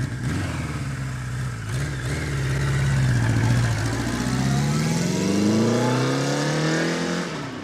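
A 1974 Kawasaki Z1 900 motorcycle runs close by through its tuned exhausts, a deep steady burble rising and falling in pitch as the throttle is blipped, with no talk.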